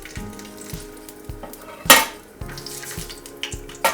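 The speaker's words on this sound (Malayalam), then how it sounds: "നെയ്യ് നന്നായിട്ട് ചൂടായിട്ട് വരുന്നുണ്ട്. അപ്പോൾ ഞാൻ പട്ട, ഗ്രാമ്പൂ, ഏലക്ക അത് ചേർത്ത് കൊടുക്കുകയാണ്." Cinnamon, cloves and cardamom sizzling in hot ghee, a steady close frying crackle with a metal utensil clinking and scraping against the pan and one sharp clatter midway.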